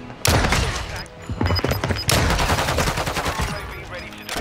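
Heavy gunfire during a Call of Duty Search and Destroy match, with loud overlapping bursts of shots in quick succession, sharp cracks and a dense, continuous volley, and voices faintly audible underneath.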